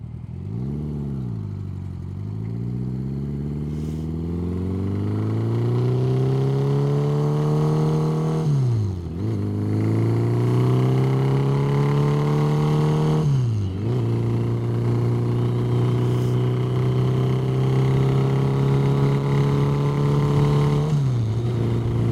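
A custom bobber motorcycle's engine drones steadily, close and loud, with several brief dips in pitch as it slows and shifts, settling into a low even idle-like hum as it brakes toward a stop.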